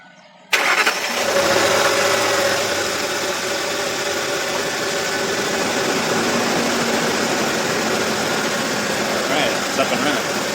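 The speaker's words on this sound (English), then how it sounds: "I'm going to go ahead and turn on this truck." A 2006 Ford F150 truck engine cranks and catches abruptly after a short quiet moment, then settles into a loud, steady idle close by for the rest of the time.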